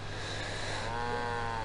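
Cows moo in the farming game FarmVille 2: a single long, drawn-out bovine moo with a steady pitch, moderately quiet and heard alone.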